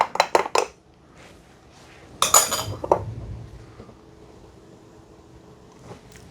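Metal spoons clink and scrape inside ceramic cups while vanilla syrup is stirred into cappuccinos from Nespresso Vertuo machines, a quick flurry of bright taps, a pause, then another cluster of clinks fading to quiet.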